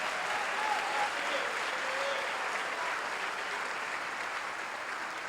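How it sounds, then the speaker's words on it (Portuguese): A church congregation applauds together during a worship service, the clapping dense and steady, spread across the room at an even loudness and heard alone throughout. "Dê um aplauso a Jesus."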